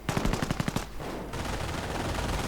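A German MG42 machine gun fires a rapid burst in a WWII real-time strategy game, sharp rhythmic shots for under a second, followed by a dense wash of battle noise and distant gunfire.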